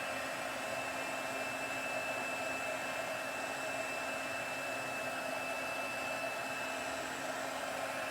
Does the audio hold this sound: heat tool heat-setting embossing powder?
yes